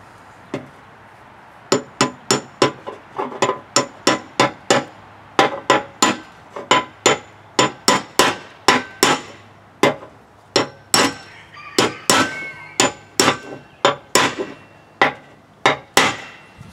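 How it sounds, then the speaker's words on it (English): Repeated sharp metal-on-metal blows of a hammer striking a punch to seat a spindle bearing on a lawn tractor cutting deck, about thirty loud close hits in an uneven steady rhythm, no speech. "just with a punch on the outer edge, see how I want it to go all the way down"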